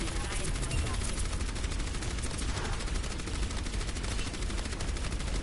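Torbjorn's turret in Overwatch fires continuous rapid automatic shots, dense and loud throughout amid heavy game combat noise.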